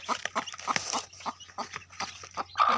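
A hen clucks in repeated short bursts close by as her newly hatched chicks come out of the eggs, with a brief higher squawk near the end; no one talks.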